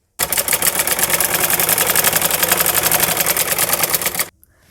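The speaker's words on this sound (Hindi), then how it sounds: "हम इसको ऐसे ही डबल फोल्ड करके और हम इस किनारे के ऊपर से यहाँ से हम मोटी सिलाई लगाएंगे" A sewing machine stitches a thick seam along a double-folded cloth edge, a loud, rapid, steady chatter of needle strokes lasting about four seconds before stopping abruptly.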